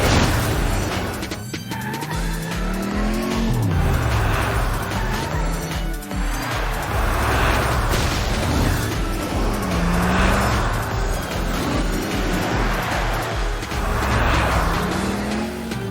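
Cartoon race cars roar off at the start of a race, engines whining and swooping past continuously with tire noise and clatter, loud and busy throughout.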